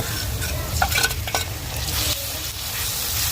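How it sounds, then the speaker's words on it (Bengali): Onions and a ground spice paste of ginger and cumin sizzle and fry in a pan, a dense, steady crackle with stirring scrapes over it, close and continuous. "তো মশলাটা আর একটু ভালোভাবে কষাই না একটু"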